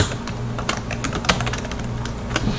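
Fingers type rapidly on a computer keyboard, producing close, crisp key clicks in uneven bursts over a steady low background hum, with no talking.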